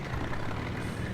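A T-34/76 tank drives steadily in Red Orchestra 2, its engine giving a continuous low rumble and drone. The sound is loud and constant, with no voices over it.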